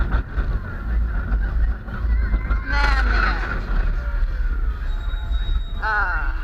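The Barnstormer kiddie roller coaster at Magic Kingdom, ridden from the front row: a steady low rumble of coaster cars on track with occasional wheel squeals, while riders talk over the ride.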